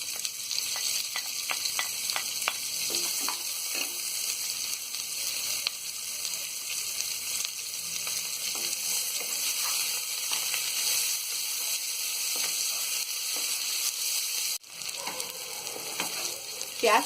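Onions fry with spices for matar pulao in a pressure cooker, a steady close hiss of sizzling oil running throughout with light scraping stirs scattered across it.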